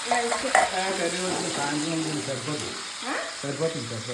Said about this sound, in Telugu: ఇంకా తాలింపుకి జీలకర్ర, ఆవాలు, మెంతులు, వెల్లుల్లిపాయలు వేసాను. ఇంకా వేగినాయి.